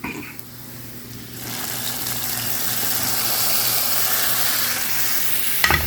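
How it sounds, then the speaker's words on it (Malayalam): Hot oil tempering poured into an okra curry bursts into a loud sizzle that swells and holds steadily as the spiced oil hits the curry, ending with a brief clatter. "ഈ താളിപ്പ് നമുക്ക് എന്ത് ചെയ്യാം, നമ്മളെ വെണ്ടക്കറിയിലേക്ക് ഒഴിച്ചു കൊടുക്കാം"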